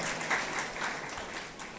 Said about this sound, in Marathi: तिला टाळ्या वाजवा एकदा